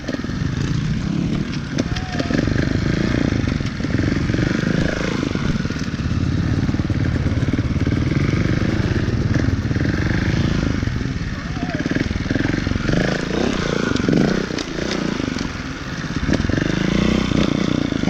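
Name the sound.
Beta Evo Factory 300 4-stroke trials motorcycle engine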